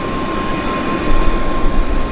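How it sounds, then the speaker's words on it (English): A China Southern airliner sits at Vancouver airport with its APU running, giving a loud, steady, broadband jet roar with a faint high whine, swelling slightly midway and heard alone. "They're running the APU on the Airliner, guys, so it's nice."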